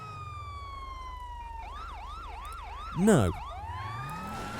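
Police siren on an R35 GTR police car in a video game, a steady rising tone that turns into a rapid wailing yelp over a low engine hum, with one brief spoken word partway through.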